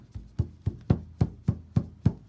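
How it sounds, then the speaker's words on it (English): Eight quick taps on a taut canvas, each a short dull thump with a slight drum-like ring, evenly spaced and close. "That's the sound of a tight canvas."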